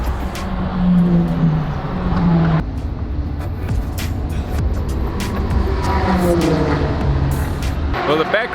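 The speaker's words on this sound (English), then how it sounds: "These cars are already going nuts." Race cars drone around the Road America circuit during an endurance racing event, a continuous loud engine roar that rises and falls as cars pass, with people talking over it throughout.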